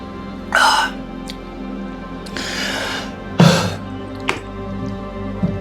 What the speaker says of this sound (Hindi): तो पानी पी लेते हैं।